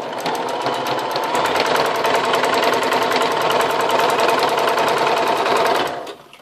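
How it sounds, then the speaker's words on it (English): A sewing machine stitches a 5/8 inch seam allowance in one continuous fast, even run of rapid needle clatter, close and loud, stopping abruptly at the end. "We're going to sew"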